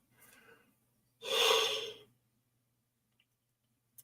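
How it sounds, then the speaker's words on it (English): A single long, breathy yawn rising and fading over about a second, preceded by a softer breath and followed by quiet, with no talk over it. "Third yawn, not good."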